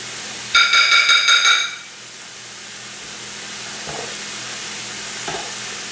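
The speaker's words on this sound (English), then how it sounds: "We're going to let those stir fry up a little bit" Eel pieces stir frying in a pan, with a burst of loud sizzling and stirring up front that settles into a steady, quieter frying hiss with a couple of soft knocks.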